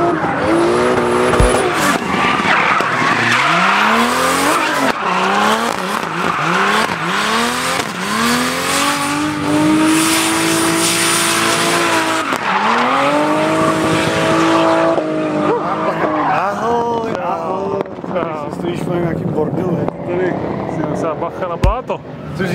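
Drift cars skidding into a corner at a test day in Hradec Králové, with loud, close engine revving, rising and falling pitch sweeps and long tire squeals while people talk over it.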